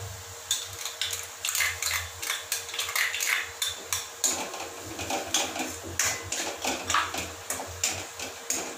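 Green capsicum added to a pan for veg Manchurian, followed by rapid, rhythmic metallic scraping and tapping of a spatula against the pan, close and fairly loud, with no talk.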